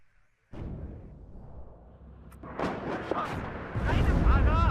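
Artillery fire in the WARNO video game: deep, rumbling booms and blasts that build in intensity, with voices talking over the barrage.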